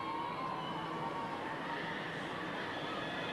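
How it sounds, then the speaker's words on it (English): Three-quarter time siren at an Australian football match, a 1997 Herald Shield schools game between Doncaster High and Blackburn Tech, sounding as a steady sustained tone over constant crowd and ground noise. "There's the siren."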